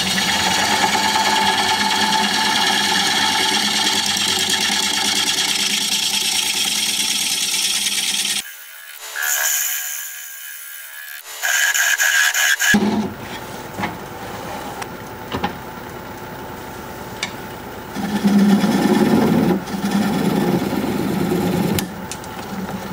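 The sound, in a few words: wood lathe turning a wooden bowl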